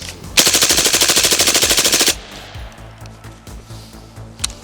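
A gas airsoft gun, an IDG Hesy SixK, fires a fast full-auto burst in FRS mode, about twenty loud, evenly spaced shots close by, then stops and leaves quieter rustling and faint knocks.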